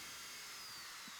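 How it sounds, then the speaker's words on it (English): A drill bores holes through the wooden sole of a handmade Goncalo Alves block plane, a steady high whine held close and continuous for a brief moment. "I'm going to go through and drill everything"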